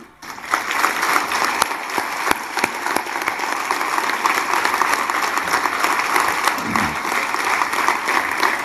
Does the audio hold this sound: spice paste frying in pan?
no